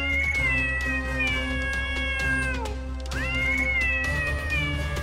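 A cat meows in long, drawn-out wailing calls, two sustained cries close by over a steady low hum.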